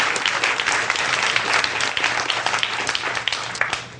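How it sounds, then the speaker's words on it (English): Dense, steady applause from participants at a conversational hypnosis training workshop, a room full of hands clapping continuously at close range throughout. "Give yourselves a round of applause"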